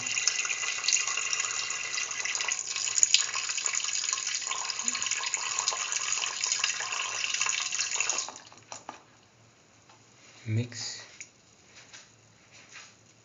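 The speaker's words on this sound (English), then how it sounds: "pour in 300 ml of milk" Milk, about 300 ml, pours steadily into a pan in a bright, continuous stream for several seconds, then stops, followed by a few faint clinks and a soft splash.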